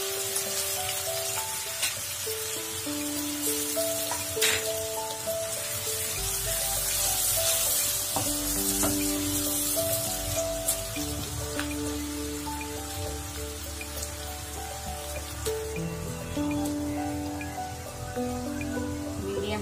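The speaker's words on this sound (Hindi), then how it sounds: "कोफ्ते तले हुए तेल में डाल देंगे।" Fried mutton koftas for a shahi kofta curry go into hot oil, giving a steady, dense crackling sizzle throughout, close by, with a melodic tonal backing underneath.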